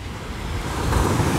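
Strong north wind blowing on the Black Sea shore at Golubitskaya, a loud continuous rushing roar buffeting the microphone, with broadband surf-like noise building slightly louder toward the end.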